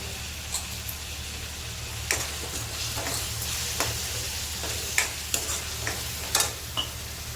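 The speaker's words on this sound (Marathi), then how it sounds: "थोडा वेळ परतून घेऊया आपला कांदा टमॅटो व्यवस्थित शिजून झालेला आहे" Onion and tomato sauté in a pan with a low continuous sizzle, broken by occasional scraping strokes and light taps of a stirring spoon.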